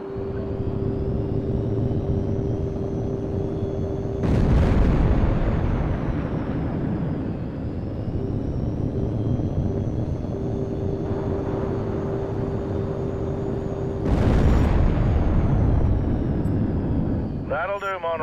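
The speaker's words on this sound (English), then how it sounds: "Polaris 4, you're clear to engage Polaris 3 with your heat seekers." Jet fighters roar through a dogfight in the Tom Clancy's HAWX 2 video game, a steady loud engine drone with two sharp surging blasts as heat-seeking missiles launch.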